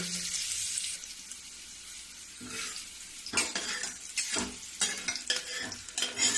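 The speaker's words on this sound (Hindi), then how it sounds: "अब इसको धीमी गैस में थोड़ी देर भूनूंगी।" Faint sizzling of garlic and green chili frying in a pan over low heat, with soft stirring scrapes and clinks, no voices.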